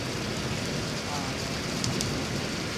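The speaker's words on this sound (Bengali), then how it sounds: "অনেক অনেক বৃষ্টি আজকে সারাদিন বৃষ্টি হবে" Heavy rain pours in a dense, continuous roar with no voices, filling the whole stretch.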